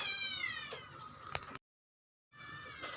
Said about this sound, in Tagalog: Pasensya na guys kung medyo may mga pusa.